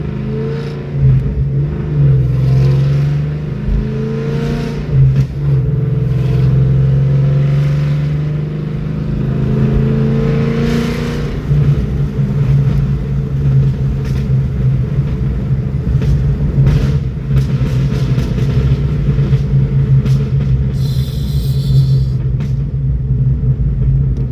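A car engine rumbles and revs while driving around the block, its pitch rising and falling through several loud, close accelerations with no talk.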